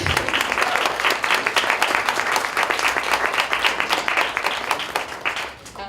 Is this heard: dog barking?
no